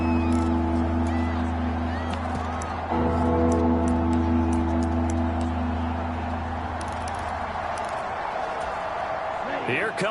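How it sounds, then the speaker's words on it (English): Stadium crowd noise from the Madden 23 football game, 49ers versus Cardinals: a steady loud roar of spectators that swells and holds, with a steady low hum beneath and a brief shift partway through. "Here comes a big one as this crowd gets up making some noise."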